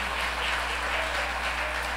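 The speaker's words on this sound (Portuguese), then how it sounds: "Pode aplaudir a Jesus." Church congregation applauding during a sermon: a steady, even wash of many hands clapping together, moderately distant and sustained without pause, over a constant low hum.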